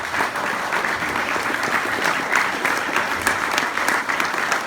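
A congregation gives a sustained round of applause, a dense, even patter of many hands clapping that swells slightly and continues throughout.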